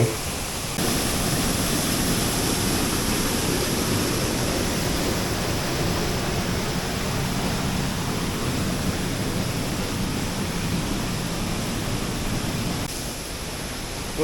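A constant roaring rush of Vattayi waterfall in Thrissur pouring into flowing water, loud and unchanging from start to finish.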